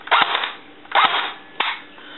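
Speedy Toys M16A4 toy rifle firing, three sharp, loud cap-gun-like cracks spaced under a second apart, each with a short fading tail.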